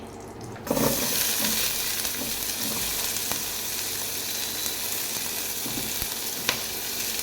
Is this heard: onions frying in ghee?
yes